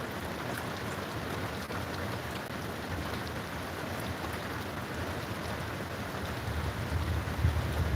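Heavy rain pours steadily during a severe tornado warning in southeastern Oklahoma, a dense close hiss of drops on the car and windows that grows slightly louder near the end.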